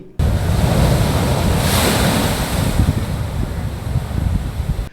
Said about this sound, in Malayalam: പരിമണം ക്ഷേത്രത്തിന് എതിർവശം കോൺക്രീറ്റ് സംരക്ഷണ ഭിത്തി കടന്ന തിരമാലകൾ തീരത്തേക്ക് അടിച്ചു കയറി